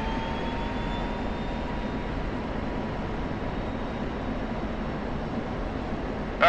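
A jet engine in a DCS flight simulator mission over Syria hums as a steady, even cockpit drone, with a faint rise right at the end.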